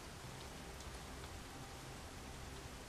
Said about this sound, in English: it's raining. I like it when it rains here.